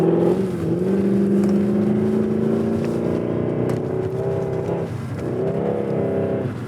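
A 2007 Audi B7 RS4 with a custom stainless exhaust drones loudly and steadily up close, its engine note holding a sustained low tone that rises slightly and dips around the five-second mark before settling again, with no voices.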